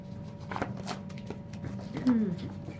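Soft riffling and flicks of playing cards being shuffled close by, with quiet talking in the background.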